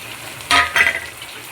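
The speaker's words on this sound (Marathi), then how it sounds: "असे तेलामध्ये छान हे तिखट, मीठ, हळद लागलेले काप असे परतवून घेऊया" Potato slices coated in chili, salt and turmeric fry in hot oil, giving a short close burst of hissing sizzle as they are stirred and turned, then a quieter simmer.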